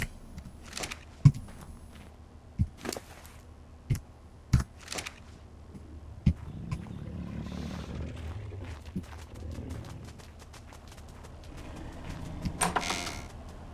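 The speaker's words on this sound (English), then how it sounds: "Their little footsteps." Small, soft footfalls of baby Pegomastax creatures in ARK Survival Evolved on the Crystal Isles map, sharp light taps spaced irregularly over a low ambient bed, with a denser cluster of quick steps near the end.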